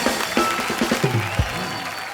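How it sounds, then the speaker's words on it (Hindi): A studio audience on a TV comedy talk show applauds loudly and steadily, and a voice speaks over the clapping near the start. "एक बार रणबीर अनुष्का के लिए जोरदार तालियां"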